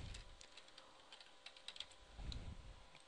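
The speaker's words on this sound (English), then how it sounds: "let's just type in your name" A map name is being typed on a computer keyboard, with quick, quiet, irregular key taps, close and faint, with no talk over them.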